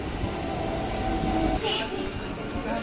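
A train at Kharagpur railway station in West Bengal rumbles steadily with a brief high screech, heard from the platform amid general station noise.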